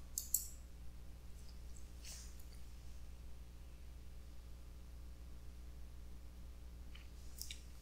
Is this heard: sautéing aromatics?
no